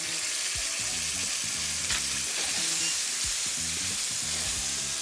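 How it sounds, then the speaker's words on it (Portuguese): Sea bass fillet frying skin-side down in a pan, a steady, close hiss and sizzle of oil that runs unbroken under low rhythmic background music. "uma fase inicial aquecer bem a frigideira, mas depois baixar o lume para a pele ir fritando lentamente e ficar bem crocante"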